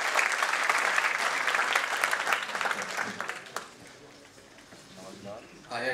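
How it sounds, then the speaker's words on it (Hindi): A crowd at a kavi sammelan poetry event at IIT Bombay applauds warmly to welcome a poet, the clapping loud at first and then thinning out and fading toward the end. "एक बार जोरदार तालियों के साथ स्वागत करेंगे"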